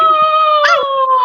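A human voice imitates a dog with a sustained, tonal, howl-like cry lasting over a second. It is loud and close, with a brief wavering break partway through.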